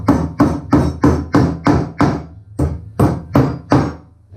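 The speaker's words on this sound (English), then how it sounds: "This is just a generic hammer. It works very well." A generic hammer strikes a wooden Viking sea-chest under construction, about ten sharp, loud, close blows in a steady rhythm, each ringing briefly with a low thud.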